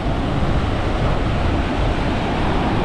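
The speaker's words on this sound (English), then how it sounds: "Got some strong waves around here." Strong ocean surf churns loudly and continuously on the shore of Phu Quoc, Vietnam, a dense, rumbling wash mixed with buffeting wind noise on the microphone.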